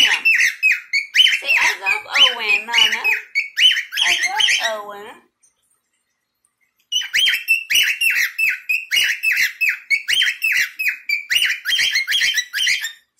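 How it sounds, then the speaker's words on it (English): A pet bird chirps and tweets in rapid, busy bursts at close range, pausing for about two seconds midway before resuming just as lively. "Look at the bird."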